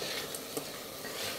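Rice with cardamom and cumin roasting in ghee, a soft continuous sizzle with a light stirring scrape, close and fairly quiet.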